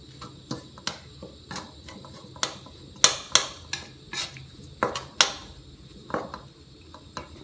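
Curry paste and chili stir-fried in vegetable oil in a pan for pork panang curry, a spatula scraping and knocking against the pan in a steady series of sharp clacks with a faint sizzle beneath.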